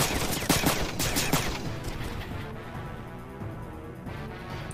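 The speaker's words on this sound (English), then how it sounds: "Those are warning shots" Warning gunshots in the video game Front Mission 3 ring out as a rapid volley of shots that fades into a steady, lingering rumble.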